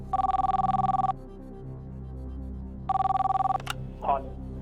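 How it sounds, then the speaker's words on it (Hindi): A telephone rings in two electronic bursts separated by a pause, over a low background hum, followed by a brief clatter, on the studio set of the TV quiz show Kaun Banega Crorepati. "ओके कंप्यूटर जी, संजय शर्मा को मेरठ में फोन लगाया जाए"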